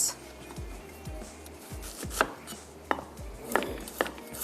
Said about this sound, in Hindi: जब भी आपको प्याज सुर्ख करनी है आप उसको इस तरीके से स्लाइस करेंगे